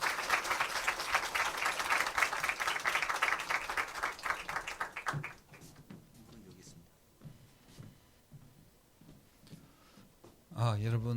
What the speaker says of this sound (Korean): 우리 박수로 환영해 주시겠습니다.